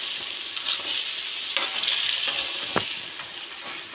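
Paneer frying in a pan, a continuous close sizzle with a few soft stirring scrapes and clicks, no voices.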